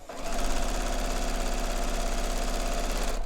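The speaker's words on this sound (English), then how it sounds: "And so then I'm just gonna sew these all the way down." A sewing machine runs steadily, stitching pieces of a black polygon quilt block in dark thread, its fast, even needle chatter close and continuous for about three seconds before stopping.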